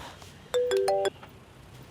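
A mobile phone ringtone plays a short electronic melody of a few bright tones, lasting about half a second during an indoor scene in a Hindi film, with quiet room ambience before and after and no talk.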